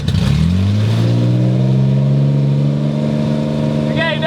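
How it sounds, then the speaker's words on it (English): Subaru SVX engine swapped into a Honda Insight, started with the clutch in and settling into a loud, steady close-up idle with a rising whine near the end. "to start it, I have to hit 3 switches: fuel, ignition, and the ECU. Clutch in, hit the button."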